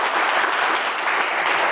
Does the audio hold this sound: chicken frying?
no